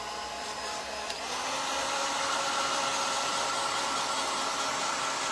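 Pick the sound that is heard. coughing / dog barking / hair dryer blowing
hair dryer blowing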